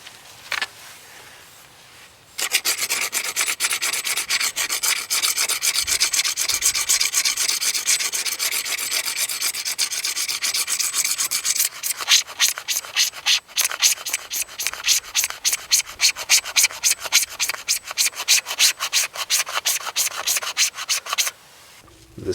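Magnesium bar scraped into shavings for fire starting outdoors in winter, a loud close continuous scraping that turns into rapid rhythmic strokes in the second half, then stops.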